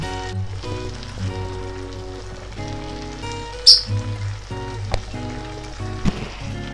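Paprika stewing in broth bubbles and sizzles softly in a pan, a steady gentle simmer with a few brief louder pops, no one speaking.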